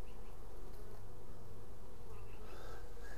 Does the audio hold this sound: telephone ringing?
no